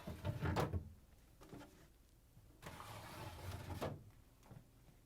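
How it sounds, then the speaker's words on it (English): Plastic crisper pans slide out of a Whirlpool, KitchenAid or Maytag refrigerator in two bursts, each a scraping rumble ending in a clunk, fairly close, with no talking. "Now we can reach in and take out the crisper pans. All you have to do is pull them out and set them aside."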